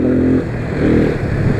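A Hero XPulse 200 motorcycle engine revs loud and close, a short rough burst that dips and swells again with no talk over it.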